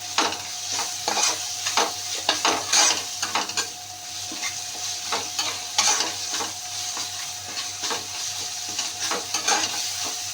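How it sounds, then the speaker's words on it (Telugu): Chicken curry masala fried in oil on a high flame, a continuous close sizzle broken by repeated scraping strokes of a spoon against the pan, with no voices. "ఇది పచ్చి వాసన పోయే వరకు ఫ్రై చేసుకోవాలి."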